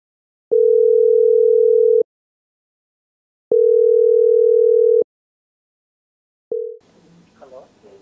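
A phone call ringing out: two long, steady ringing tones with a pause between, then a third tone cut short as a voice starts talking.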